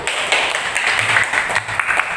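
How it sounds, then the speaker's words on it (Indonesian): A class of students applauds a group of classmates, with light, scattered clapping that stays fairly close and steady over a quiet room. "Tepuk tangan untuk kelompok 1."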